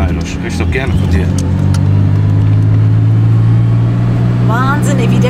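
A BMW 325 with both a turbocharger and a supercharger roars and revs up close while accelerating, a steady loud drone throughout, with a voice talking over the engine noise.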